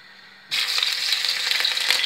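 Onions dropped into hot oil for couscous, a sudden loud sizzle bursting in after a short quiet moment and holding steady, close and bright.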